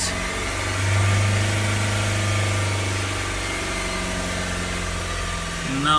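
A Ford Transit MK8 2.0 engine idles steadily just after starting, its low hum holding even with a slight swell near the start, and the revs sagging a little toward the end.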